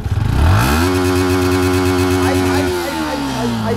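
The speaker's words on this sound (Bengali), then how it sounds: "আওয়াজটা একটু দেখি একবার, আওয়াজটা শোনা। BS6 engine." A 125cc BS6 motorcycle engine revs up loudly and holds a steady high drone, then the pitch drops as it eases off, close by.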